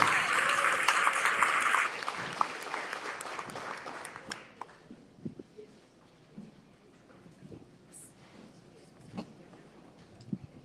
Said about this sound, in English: And give yourself a round of applause for coming out on Saturday morning.